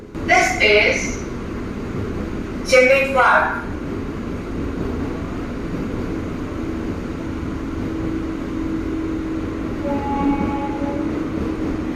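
A low steady rumble of a Chennai suburban AC EMU electric train running, with brief voices and a chime early on, continuous hum throughout.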